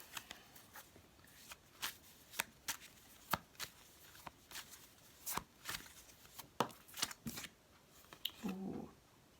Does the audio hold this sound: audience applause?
no